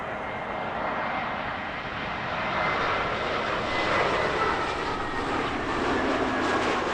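Lufthansa airliner arriving to land at Heathrow at sunrise, with a steady broad jet engine roar that grows louder and stays close, heard alone without voices.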